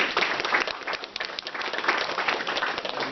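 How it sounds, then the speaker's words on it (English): Audience applause at a US–Taiwan partnership forum, a continuous crowd of clapping hands sustained evenly at moderate loudness for the full length. "not that they don't deserve equal applause"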